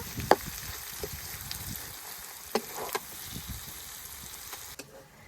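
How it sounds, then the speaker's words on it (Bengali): Sliced onion, green chili and garlic fry in hot oil with a soft, steady sizzle, close and fairly quiet, broken by a few sharp clicks from stirring. "পেঁয়াজ, কাঁচামরিচ, রসুন সবকিছু খুব ভালোভাবে ভেজে নিয়েছি"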